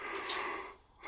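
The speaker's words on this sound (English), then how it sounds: "Oh, I can't stop yawning." One long breathy yawn, close and airy, swells and then tapers off, alone over a noisy background hiss.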